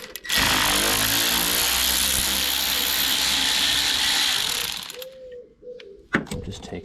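A ratchet wrench with a 10mm socket loosens a bolt on the carburetor of a Briggs & Stratton Quantum 35 four-stroke engine on an Atco 16S lawnmower, giving a loud, fast, continuous clicking run close by that stops abruptly, followed by a few faint handling knocks.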